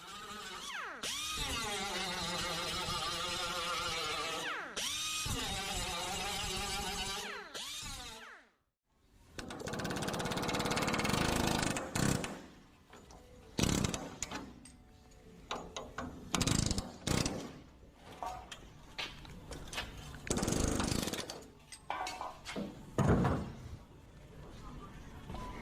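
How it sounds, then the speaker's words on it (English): An air hammer fitted with a spot weld chisel chatters loudly through welds while a bedside panel assembly is removed, first in one long continuous burst, then after a short break in shorter, choppy runs. "got my air hammer and my spot weld chisel and started running through these"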